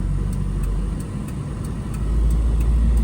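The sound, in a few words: Daihatsu Move three-cylinder car driving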